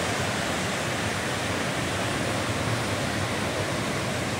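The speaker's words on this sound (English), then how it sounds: "Look at that ice. Blackwater Falls." Blackwater Falls in West Virginia, in winter with ice built up on the rocks, gives a dense, unbroken broadband roar of falling water, loud and constant.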